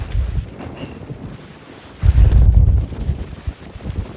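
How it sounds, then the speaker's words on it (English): Gusty wind at a riverside campsite in western North Carolina buffets the microphone in uneven bursts, a quieter stretch followed by a strong low roaring gust. "You can see the wind."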